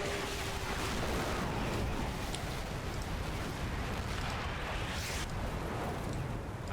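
Artillery shells burst one after another across a Cold War strategy battlefield, a dense, continuous roar of rumbling blasts and crackling impacts with no pauses, loud and close throughout.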